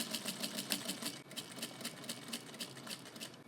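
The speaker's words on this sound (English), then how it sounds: "We're back at the sewing machine where I am stitching together the main fabrics" A sewing machine runs close by, stitching main fabrics together over a basted label, a quiet rapid rhythmic chatter of the needle with a brief pause midway and no voices.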